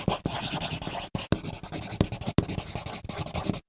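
A pen scratches across paper while someone writes down crypto wallet seed phrase words, with close, continuous short strokes broken by brief pauses.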